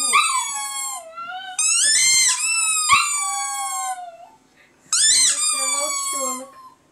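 A dog lets out three long, wavering howls mixed with high whining, each trailing off, with short quiet gaps between them.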